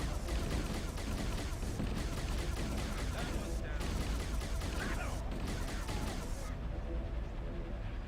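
Turret gunfire rattles through a video game battle, a dense continuous volley of rapid shots from several guns at once, loud and steady before cutting off near the end, with speech faintly mixed in.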